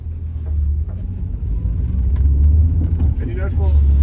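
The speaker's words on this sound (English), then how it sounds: "Let's take a drive down Old Seaview Road here." A 1994 Mercedes W202 C180 with a manual gearbox drives down a road, its steady low engine rumble and road noise continuous throughout, with a brief voice near the end.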